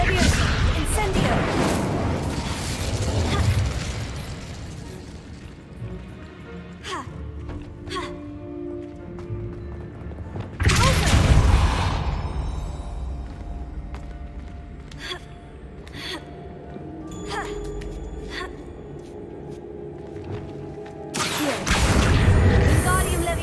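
The Incendio fire spell is cast in Hogwarts Legacy, and bursts of whooshing, crackling flame erupt in several loud waves, the last near the end. A voice calls out spell names between the blasts over softer game ambience.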